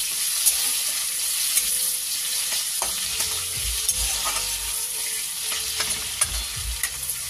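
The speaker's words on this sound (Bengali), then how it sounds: "কাজু কিশমিশটা একটুখানি ভাজা ভাজা হবে।" Cashews and raisins fry in butter with cardamom, cloves and cinnamon for a mixed fried rice, giving a steady close sizzle with occasional stirring scrapes and light clicks throughout, no voices.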